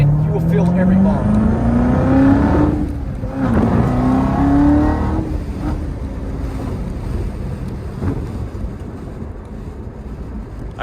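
Corvette C7 Z06 accelerating hard from inside the cabin, loud engine roar climbing steadily through the gears with a brief shift dip, then settling to a lower drone with heavy wind and road noise.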